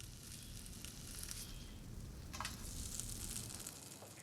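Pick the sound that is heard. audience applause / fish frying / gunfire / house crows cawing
fish frying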